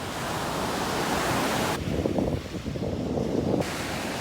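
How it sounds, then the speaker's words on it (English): Ocean waves at the beach rushing and breaking in a broad steady roar of surf, with wind noise buffeting the microphone; loud and close, no voices heard. "the waves smack each other"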